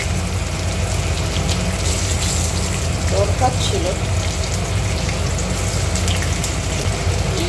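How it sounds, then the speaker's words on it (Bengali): Heavy rain makes a dense, steady hiss throughout, and a voice speaks briefly over it. "এত জোর বৃষ্টি আরম্ভ হয়েছে,"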